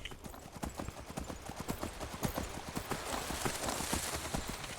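Galloping horse hooves in Skyrim, a brisk, even clip-clop close by for several seconds, with a soft hiss of wind swelling toward the end.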